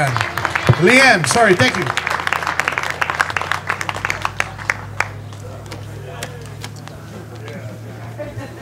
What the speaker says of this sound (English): Give a round of applause for Chris Lanoux